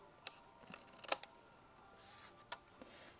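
Scissors snip card paper for a handmade greeting card, giving a few quiet, close, separate cuts with faint rustling between them.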